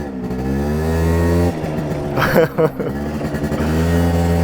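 A power-boosted 50cc scooter engine idles steadily, then revs up sharply in a short burst of acceleration before settling back to a strong, even drone, loud and close with no talking.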